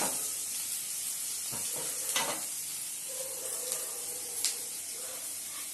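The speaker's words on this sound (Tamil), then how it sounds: "இந்த கடாயெல்லாம் மாங்குன்ட்டு இப்படி கிண்டிகிட்டே இருக்கணும்" Brinjal kuzhambu simmers in a kadai with a soft, steady sizzle, broken by a few scraping stir strokes and light clicks, with no talking.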